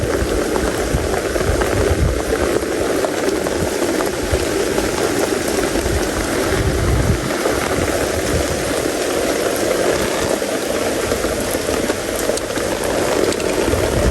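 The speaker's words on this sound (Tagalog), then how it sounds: "Grabe po, naulan po." Heavy rain falling steadily by a river where fishing is under way, a dense, loud, continuous hiss of drops with no break throughout.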